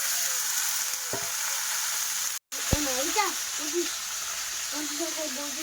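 Kan fish fry in spattering oil, a steady close sizzle that drops out for a moment, while a voice talks over it in the latter half.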